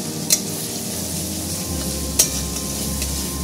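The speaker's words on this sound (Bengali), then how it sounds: "এবার আমি এর মধ্যে 4-5টা কাঁচা লঙ্কা দিয়ে দিচ্ছি।" Green chilies drop into mustard masala frying in oil for a piyaj sorshe bata fish dish, giving a loud continuous close sizzle with two sharp clinks of a utensil against the pan.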